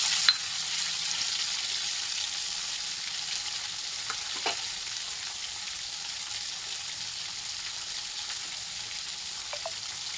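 Tomatoes fry in a pan of hot oil with a steady sizzle, joined by a few faint clinks and stirring scrapes. The cooking sounds are close and even, with no speech.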